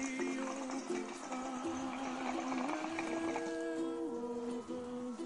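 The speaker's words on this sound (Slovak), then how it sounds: "Takže má to taký netradičný šlupot, bublinkavý." Water pipe bubbling with a gurgling, unusual rhythm, steady and close, with sustained watery tones and no talking.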